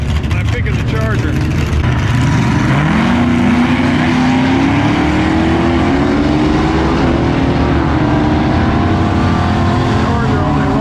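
A white Dodge Charger and a Chevelle drag race down the strip, with loud sustained engine roar and rising, climbing tones as the cars accelerate, and voices talking over it.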